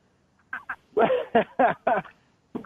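Several short, nasal quacking calls in quick bursts, close by, with brief pauses between them and one last call after a gap.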